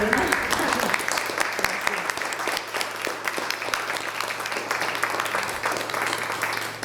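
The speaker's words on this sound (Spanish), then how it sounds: "Bueno, deja que te aplaudamos." Audience claps steadily throughout at a book presentation in Las Palmas de Gran Canaria, a dense, even round of applause with no pauses.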